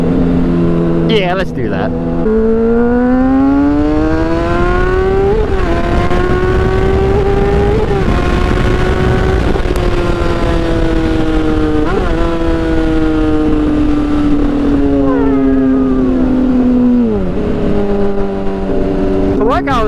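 Motorcycles accelerate close by, their engine notes climbing in pitch through several gear changes, dipping briefly at each shift, loud and continuous while riders talk over the roar.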